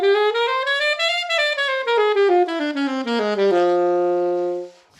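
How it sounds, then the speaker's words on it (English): A single melodic instrument runs a minor bebop scale in concert F, climbing then descending in quick even notes before settling on a held final tone, clear and solo with no voices. "It's the minor bebop scale."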